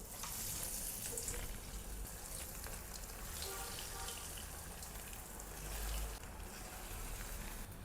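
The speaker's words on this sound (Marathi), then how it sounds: "आपण आता तळून घेऊ। तेल पण तापलेले, तेलात सोडून घेऊ।" Corn cheese balls frying in hot oil make a steady, dense sizzle and crackle that runs unbroken from start to finish, with no voice over it.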